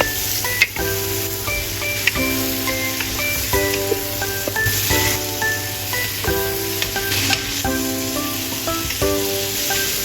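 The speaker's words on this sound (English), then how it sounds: "Then all the ingredients can be stir-fried until fragrant." Vegetables stir-frying in a single pan for a roasted salmon dinner give a steady, close sizzle with repeated stirring scrapes and soft clinks throughout.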